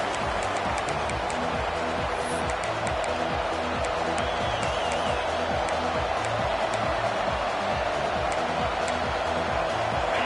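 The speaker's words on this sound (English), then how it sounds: "this crowd is buzzing after that last score" A large football stadium crowd at a USC game roars and buzzes after a score, a dense, continuous wash of cheering and noise heard from within the stands, with no clear individual voices.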